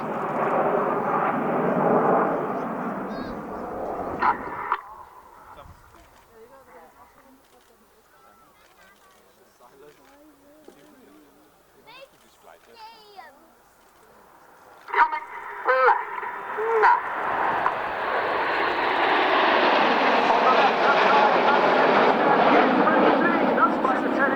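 Spitfire aircraft in a flying display at the RAF Cosford air show, a loud broad roar at the start that cuts away, then a quieter stretch with public-address commentary, before the engine roar builds back loud and sustained.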